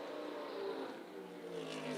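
A Devon Wide Body Special race car with an American V8 of over five liters drones steadily at Lime Rock Park as it nears the start-finish line, its engine note rising slightly in pitch.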